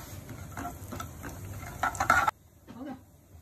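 Cumin seeds and asafoetida hit hot melted desi ghee in a pan, giving a close, crackling sizzle with light stirring clinks, which cuts off abruptly near the end.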